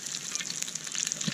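Sausages frying over a campfire outdoors give a brief, steady crackling sizzle, close and moderately loud, with no talk.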